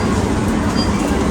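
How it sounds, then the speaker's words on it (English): Shinkansen bullet train in Japan heard from inside or close by: a dense, loud, continuous rushing roar with rumbling low end, steady for the whole moment without pause. "the Shinkansen train. That's sick."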